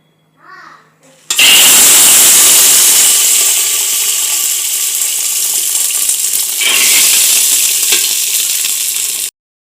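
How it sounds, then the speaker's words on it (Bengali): Soaked chickpeas are tipped into hot oil in a pan, bursting into a loud, dense, crackling sizzle that holds steady for several seconds, with a brief spitting surge partway through, after a moment of faint voice. "বুটগুলোকে এবার আমি একটি প্যানে তেল নিয়ে সেখানে দিয়ে দিলাম"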